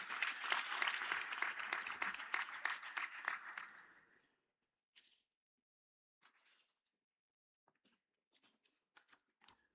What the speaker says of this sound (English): A round of applause for Ami Job.